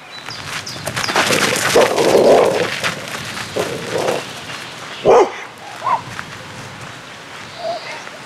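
An aggressive dog barks and yips in short irregular bursts, loud and close, with gaps of quiet between.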